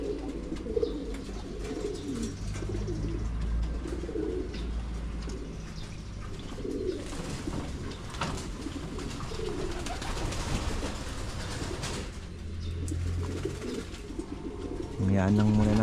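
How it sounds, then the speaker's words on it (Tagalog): Pigeons coo steadily in low, throaty, overlapping calls at a farm loft while the birds bathe, with a person talking intermittently and faint background noise throughout. "balikan natin ang ating mga kalapate"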